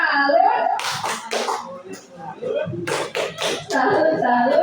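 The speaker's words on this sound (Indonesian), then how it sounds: "Tepuk salut dong buat Bu Rizky." A group at a school teachers' session performs a 'tepuk salut' clapping routine: two short bursts of quick rhythmic clapping, with people talking before, between and after them.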